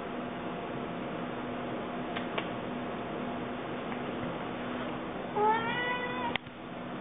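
A cat gives a single drawn-out meow near the end, fairly close, after a couple of faint ticks over a quiet hiss.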